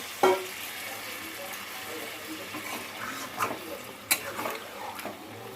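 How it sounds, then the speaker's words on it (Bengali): Water goes into chicken sizzling in a pan, giving a sharp hiss and spatter at the start, then a softer ongoing sizzle with a few stirring clinks and bursts, while someone talks over it. "তো এইবার আমি একটু জল দেব, খুব বেশি জল দেব না।"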